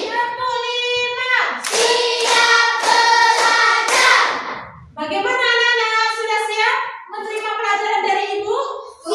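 Children in a classroom clap-and-chant game shout counted calls together in a strong, tuneful chorus, with rhythmic bursts of hand clapping punctuating the chanting in several rounds.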